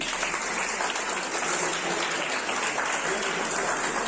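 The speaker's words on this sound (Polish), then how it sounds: "Jeszcze raz wielkie brawa Tuchoniu!" An audience gives sustained, steady applause for winners of a village beauty contest, dense clapping filling the room at an even level throughout.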